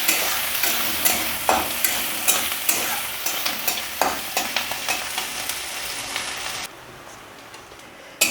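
Chopped onions frying in a pan while being stirred, regular scraping strokes of a spatula against the pan over a constant close sizzle; the stirring stops near the end, leaving a quieter fry.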